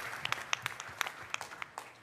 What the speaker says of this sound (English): Please join me in a round of applause for Lieutenant General Neil Thurgood.